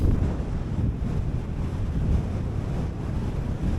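Strong wind of 25 to 30 mph gusting around a tent on the hilltop of High Snockrigg, a constant loud low roar and buffeting against the microphone with no break or voices.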